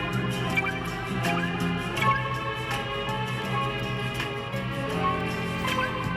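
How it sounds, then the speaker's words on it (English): Plucked guitar notes ring with a wobbling, liquid, dripping "water sound" effect, played in a slow melodic line at moderate volume with no talking. "the water sound of guitar, which I'll put a sample of in here"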